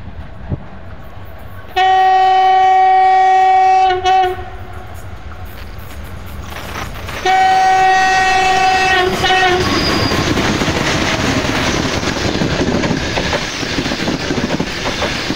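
A Rakhiv–Odesa passenger train of Ukrainian Railways sounds two long, loud horn blasts as it approaches, the second merging into the rising rumble and clatter of the passing carriages, with no talk.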